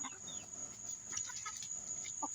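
Backyard chickens sorting out their pecking order give faint, scattered clucks and short squawks over a steady high-pitched background hum.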